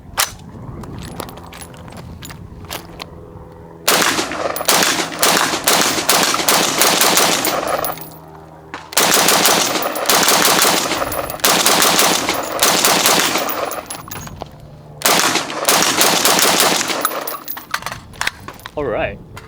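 A Tavor SAR 18-inch rifle, IDF special edition, firing IWI M193 rounds at a range, with three long strings of loud rapid shots separated by short pauses and a voice talking in between.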